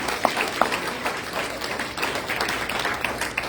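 A church congregation applauds its team during a Community of Christ service, a dense, continuous wash of many hands clapping with a few sharper claps standing out, steady and fairly loud throughout.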